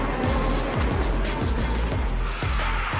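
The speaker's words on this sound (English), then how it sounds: "He's also a professional race car drifter, needing a full airport runway for his skills to take flight" Race car drifting on an airport runway at high speed, with a loud, rough engine roar and repeated downward-sweeping rev drops as gears shift, continuous throughout.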